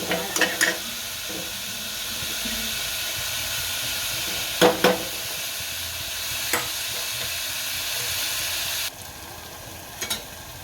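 Onions and potatoes cooking in hot oil for chana batata shaak, a continuous sizzle broken by several sharp stirring scrapes, the hiss dropping quieter near the end, with no speaking.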